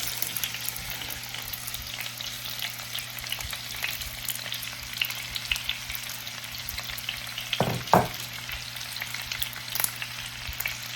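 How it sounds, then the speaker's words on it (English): Onions fry in a pan for a French onion chicken casserole, giving a loud, steady sizzle close by, with a low constant hum underneath and a brief clatter of stirring near the end; no one talks. "now we're going to put in our onions"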